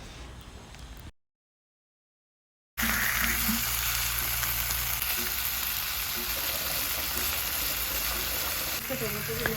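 Bangda mackerel fries in oil on its second side, giving a dense, loud, continuous sizzle close by. The sound stops abruptly for about a second and a half, then resumes at full strength.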